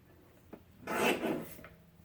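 A paper trimmer slices a strip of cardstock in one short swish and scrape lasting under a second, after a faint click, in a quiet room.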